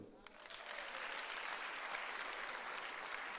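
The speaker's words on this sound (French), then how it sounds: "Oh, acclamons pour eux." A church congregation applauds during a French-language evening sermon, a dense, steady clapping that fills the room for a few seconds, heard from amid the crowd with no voice on top.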